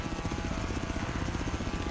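Steady, loud rotor thumping of a helicopter in the racing game Forza Horizon 3, with a continuous engine whine, close and unbroken throughout.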